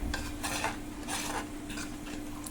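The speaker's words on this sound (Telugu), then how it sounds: "ఇలా బాగా మిక్స్ చేసుకోవాలి." Mashed boiled dal being mixed with turmeric and salt: soft, repeated scraping and stirring strokes of a utensil against a dish, close and fairly quiet, with no talking.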